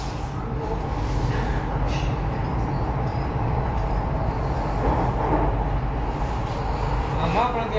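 A Delhi Metro train runs overhead at an elevated station, a steady low rumble of the train and street traffic filling the scene, with people talking nearby.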